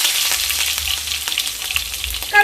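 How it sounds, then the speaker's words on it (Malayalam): Mustard seeds and curry leaves fry in a hot pan for a lamb curry, giving off a dense, close, continuous crackling sizzle throughout. "കറിവേപ്പില നന്നായിട്ട് പൊട്ടി വന്നിട്ടുണ്ട്"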